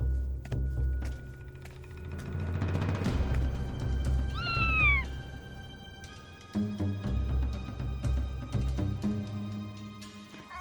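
A cartoon cat meows inside the horror video game Zoonomaly, a couple of rising and falling calls standing out over a constant musical backdrop that swells and shifts.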